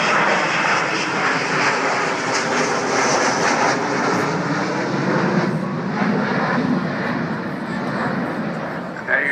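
Avro Vulcan bomber XH558 flying at the 2014 Royal Naval Air Station Culdrose air show, its jet engines producing a loud, sustained roar that fills the whole stretch and fades slightly near the end.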